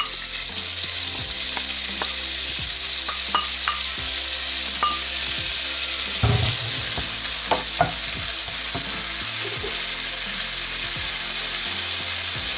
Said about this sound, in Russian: Теперь пошел у нас бекон.